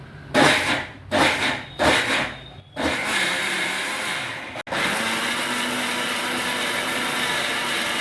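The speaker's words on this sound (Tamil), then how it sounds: "உளுந்து போட்டு நம்ம மிக்ஸி ஜாரில் போட்டு அரைச்சி எடுத்துக்கலாம்." A mixer grinder grinds soaked lentils (urad dal), whirring in three short pulsed bursts, then running continuously in a loud steady grinding drone, briefly cutting out before resuming.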